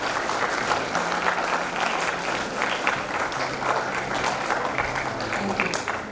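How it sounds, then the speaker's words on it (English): An audience at a school English Week celebration claps in sustained, even applause, a dense crowd of hands at moderate distance, with faint voices mixed in. "I think we should give them a big round of applause."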